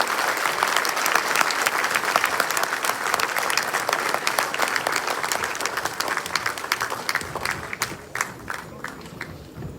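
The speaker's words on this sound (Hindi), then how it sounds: "एक बार जोरदार तालियों के साथ स्वागत कीजिए माननीय श्री मंत्री" Sustained, dense applause from a large audience at a ministerial welcome during a CSS Day 2023 ceremony at the Ambedkar International Centre in New Delhi, loud and even throughout before thinning into scattered claps at the end.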